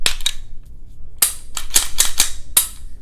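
An IWI Masada pistol is reassembled and locked, producing a quick series of sharp metallic clicks and snaps close up, a pair at the start, then five more spaced irregularly.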